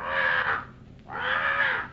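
A parrot aboard a ship gives two loud, harsh squawks, each lasting about half a second with a brief pause between, close and alone.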